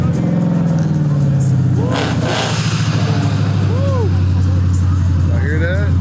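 A car with a side-exit exhaust pipe revs at an outdoor supercar show, its deep engine rumble rising and surging loudly up close, with crowd chatter faintly in the background.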